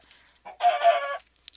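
A single chicken in the Minecraft Tekkit video game gives a short, clear cluck, brief and distinct against near silence.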